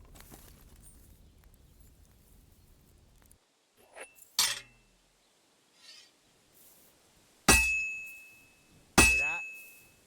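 Hammer blows ring on heated metal at an anvil in Kingdom Come: Deliverance II, three sharp metallic clangs with long bright ringing decay, the last two loudest, after a quieter stretch of low background rumble.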